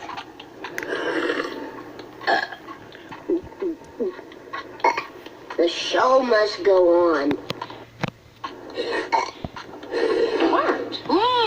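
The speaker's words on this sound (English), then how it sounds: "We're having a burp contest, Mom." Loud burps ring out in a cartoon family's burping contest at home, several long drawn-out belches between bursts of talking voices.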